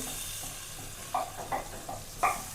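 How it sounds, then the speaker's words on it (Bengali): Hilsa fish sizzles steadily in hot oil, with a few sharper crackles and pops breaking through the soft, continuous hiss. "তো ইলিশ মাছ ভাজা শুরু করি"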